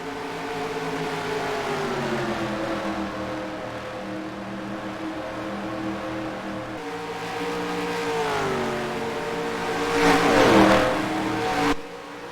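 Simulated stock cars in NASCAR Racing 2003 at Indianapolis Motor Speedway drone steadily with layered engine tones, pitches sliding as cars pass. A sharper, louder whine sweeps by near the end.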